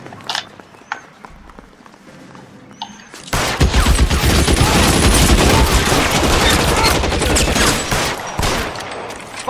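A shootout in L.A. Noire erupts after a quiet opening into a loud, sustained barrage of overlapping gunshots that runs to the end with little let-up.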